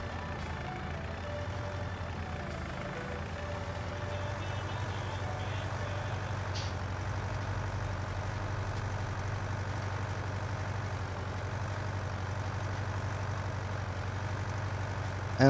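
A tractor in Farming Simulator 19 runs with a steady, low engine drone that holds at an even level throughout, with faint higher mechanical whine layered over the rumble.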